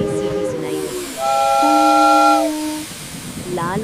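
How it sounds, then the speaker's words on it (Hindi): An animated Rajdhani Express train sounds a loud, sustained steam-style whistle. Several steady tones swell and then fade after a short hiss, with voices briefly before and after. "तभी अचानक दूर से तेज और आत्मविश्वास भरी सीटी सुनाई दी।"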